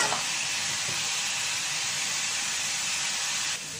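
Onions and green chillies sautéing in a pan for a Kerala-style fish curry give a steady, close hiss and sizzle. It holds evenly throughout, with faint stirring clinks underneath and no talk.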